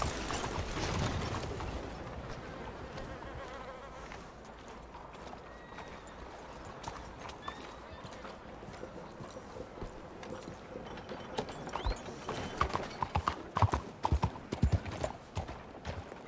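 Horse hooves galloping in the video game Red Dead Redemption 2, a steady rhythmic clip-clop over ground that grows louder and sharper toward the end, with a brief whinny and faint mechanical rattles underneath.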